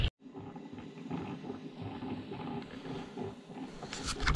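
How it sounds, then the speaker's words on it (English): A portable heater starting up in an ice-fishing camp in the Maine winter wilderness, giving a steady low mechanical roar and whir that runs the whole time after a brief click, with a louder rise near the end. "Got the heater going."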